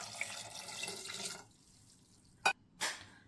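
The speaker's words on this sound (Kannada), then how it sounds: "ಸ್ವಲ್ಪ ನೀರು, ನಿಮಗೆ ಎಷ್ಟು ಬೇಕೋ ನೀರು ಅಷ್ಟು ಆ್ಯಡ್ ಮಾಡ್ಕೊಳ್ಳಿ" Water poured from a glass into a pressure cooker of lentils with onion and tomato for drumstick sambar, a close splashing pour for over a second, then quiet and two short sharp knocks.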